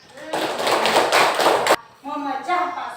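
Classroom applause bursts out in a dense, even clatter of clapping hands for about a second and a half, then stops abruptly and a voice begins talking.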